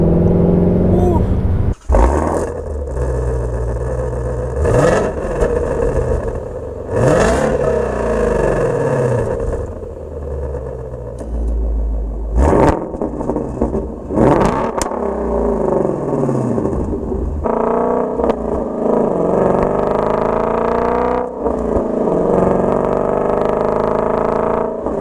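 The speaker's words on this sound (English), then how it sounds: "I've always loved the sound of the V8. I don't know what it is. It's just that rumble of that V8." A loud, deep V8 engine of a Shelby GT350 rumbles steadily, rising in repeated sharp revs with a throaty growl, close by and continuous throughout.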